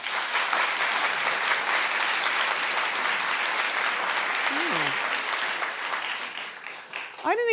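An audience applauds steadily throughout, a dense wash of many hands clapping that fades slightly near the end, with a brief voice or whistle-like sound cutting through.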